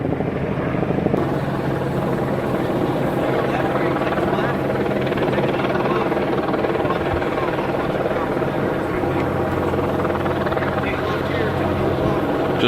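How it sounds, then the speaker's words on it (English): A helicopter thrums steadily overhead, a constant beating rotor drone with a low rumble; faint voices mix underneath. "There's a helicopter going."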